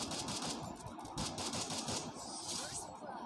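Rapid automatic gunfire rattles in a 1v1 custom match of Garena Free Fire, fast dense bursts of shots running continuously at low volume with no talk.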